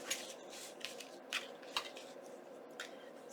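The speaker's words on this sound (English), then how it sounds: "use my little scissors to get that in." Small crafting scissors snip through sari silk fabric for a junk journal, a series of quiet, close, crisp cuts with soft rustling and no voices.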